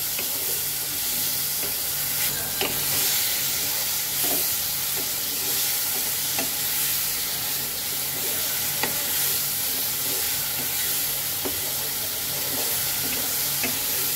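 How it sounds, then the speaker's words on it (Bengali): Boiled green mango being stirred and sautéed in a hot pan for a raw mango chutney, with a steady close sizzle and occasional scraping stirs throughout, no talking. "আমি এখন দিয়ে দেব সেদ্ধ করা আমটাকে। একটু সুন্দর করে 2-3 মিনিট আমি একটু কষাবো।"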